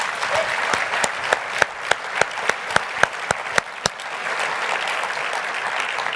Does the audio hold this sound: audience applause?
yes